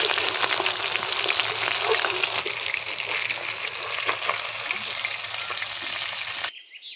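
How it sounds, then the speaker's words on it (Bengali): Spiced bamboo-leaf fish frying in hot oil in a home kitchen, a loud, steady sizzle and crackle running continuously before cutting off abruptly near the end. "তেলটা গরম হয়ে গেছে, এরপর মশলা মাখানো মাছগুলো দিয়ে দেবো"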